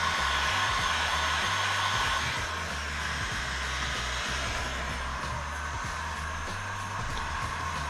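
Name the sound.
heat gun running while finishing pistol magazine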